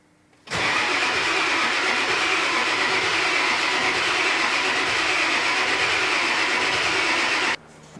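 Ford 7.3 Powerstroke diesel engine cranking after injector installation, a loud continuous starter grind that begins abruptly, runs steadily for about seven seconds without catching, then cuts off.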